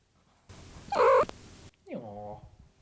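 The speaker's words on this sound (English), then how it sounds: "A little meow for you." A cat gives a short, nasal meow up close after a brief burst of muffled rustling, with a quiet voice nearby.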